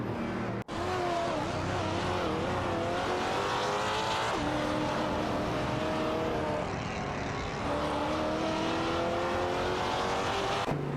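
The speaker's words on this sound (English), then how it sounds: "an intense battle for pen between Perpetuum and a Mercedes, SCLR, McLaren, and Etienne 1792, in a Ferrari 575 and Maranello" Race cars in a racing video game, including a Mercedes and a Ferrari 575 Maranello, roar continuously with shifting engine pitches and occasional tire squeal, loud and sustained throughout with no talk.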